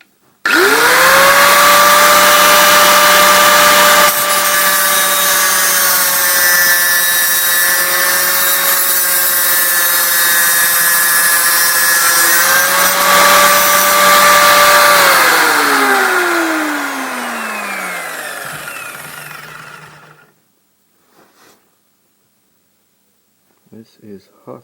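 An angle grinder cuts through aluminium with a loud, steady whine for about fifteen seconds, then the pitch sinks as the motor spins down into silence, followed by a few faint clicks.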